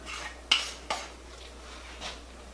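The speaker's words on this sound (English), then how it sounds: "we're filling the muffin tin." A spoon clinks against a metal muffin tin while oatmeal apple walnut muffin batter is scooped in, with two sharp taps close together and a softer clink after a pause, in a quiet kitchen.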